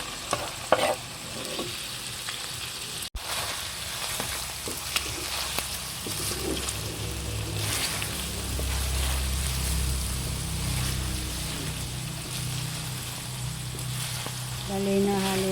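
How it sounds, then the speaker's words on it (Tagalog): Garlic and onion sautéing in a pan for pork sinigang, a loud steady sizzle with stirring scrapes throughout and a sharp clack early on, voices faintly present at times. "akin na pong igigisa. Ilalagay na po yung bawang at sibuyas"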